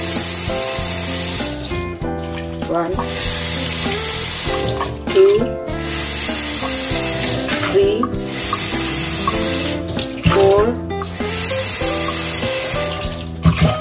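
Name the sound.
water poured into pot of rice for cooking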